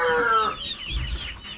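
Rhode Island Red hens cluck and squawk close by, a burst of throaty calls followed by softer clucking.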